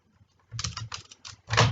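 Short run of keystrokes on a computer keyboard as a database query is entered, a few quick clustered taps with a brief pause, close and fairly quiet, no talking.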